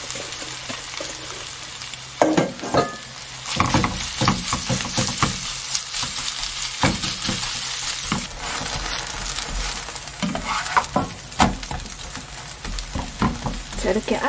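Chive and chili Korean pancake frying in a pan, a crackling sizzle that runs continuously with sharper spits and scrapes of a utensil at intervals, no voice present.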